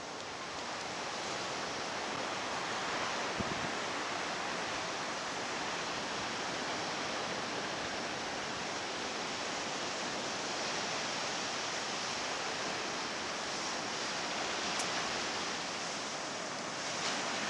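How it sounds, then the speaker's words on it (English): Sea waves washing onto a Cyprus shore on a calm, nearly windless day, a continuous broad roar of surf that stays steady and fairly distant throughout, with no voices. "There's quite a few waves coming in."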